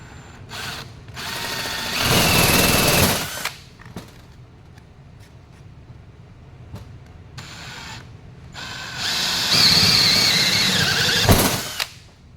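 Power drill boring 1 inch holes for an oval deck plate, two loud whining bursts of drilling separated by quieter motor running and handling clicks, close up with no talk.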